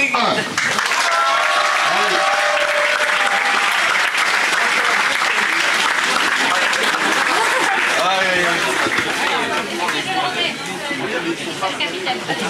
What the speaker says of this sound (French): on les applaudit bien fort, bien gentil